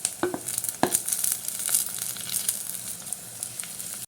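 Onion, ginger, garlic and green chili sizzle and fry in hot oil for a fish curry, a steady soft crackle broken by a few sharp stirring clinks near the start.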